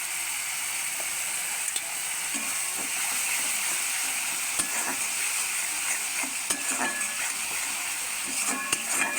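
Spice paste for a Bengali fish curry frying in a pan as a little water goes in, giving a steady, close sizzle and hiss with occasional stirring clicks and no talk.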